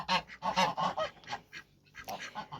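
A runner duck calls loudly and close by, a run of repeated nasal honking quacks in quick bursts, then a short pause before a few softer calls.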